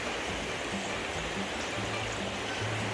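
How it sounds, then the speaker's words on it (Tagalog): Steady rushing water flows continuously, a dense broadband babble like a river or stream, with no voices. "O, tingnan nyo yung tubig sa ilog."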